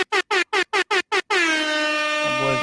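Seven short air horn blasts fire in a quick even rhythm, then one long sustained blare holds loud to the end, alone with no voices.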